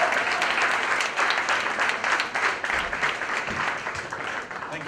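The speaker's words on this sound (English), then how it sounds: "big round of applause" A crowd applauds at a book launch event, loud and sustained clapping filling the room for several seconds without pause.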